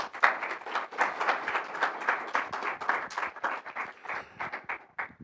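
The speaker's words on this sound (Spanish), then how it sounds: "Un aplauso, por favor." A conference audience at a free software event claps for a speaker, dense steady applause that rises quickly, holds for several seconds, then thins into scattered claps toward the end.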